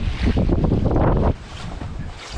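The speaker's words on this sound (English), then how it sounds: "as you can see, the wind's picked up quite a bit." Strong wind gusts roar over a lake in northern Saskatchewan, buffeting the microphone loudly for over a second before easing to a lower, steady rush.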